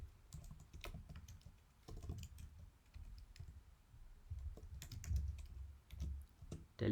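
Steady typing on a computer keyboard while writing Swift code, a close run of light clicks and key taps in uneven bursts with short pauses, heard alone without any talk.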